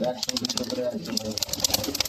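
Rare Belgian racing pigeons coo and rustle in a loft, their low calls broken up by choppy noises and faint voices nearby.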